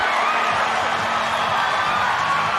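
A stadium crowd at a women's Rugby World Cup 2025 quarter-final between New Zealand and South Africa roars steadily after a try, a loud dense cheer filling the whole moment.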